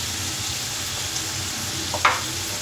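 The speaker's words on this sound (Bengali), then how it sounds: "আদা রসুনটা খুব ভালো করে ভেজে কাঁচা গন্ধ চলে যাওয়ার পরে এবার দেব" Ginger and garlic fry in a pan with a steady, moderately loud sizzle and a quick stirring scrape near the end, no voices.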